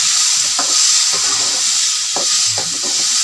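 Potatoes, peas and onion stir-fry in a pan for an aloo matar curry, giving a steady close sizzle broken by several scraping stirs, with no talking.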